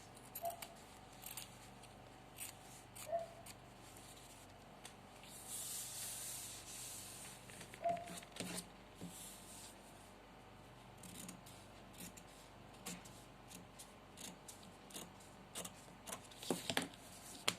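Scissors trimming the edges of fabric for a kufi pillbox hat, a series of faint close snips and rustles scattered unevenly through a quiet room, with no one talking.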